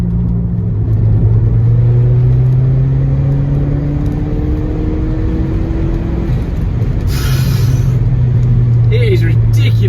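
A 1996 Saab 9000 CSE 2.3 Turbo accelerates hard, its engine note climbing steadily through the gears with a loud rumble heard from inside the cabin, while people talk over it.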